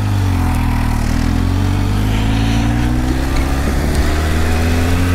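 A supercharged Kawasaki H2 motorcycle hums along at a relaxed pace, its engine note droning steadily with gentle pitch rises as it is ridden, loud and up close with no talk.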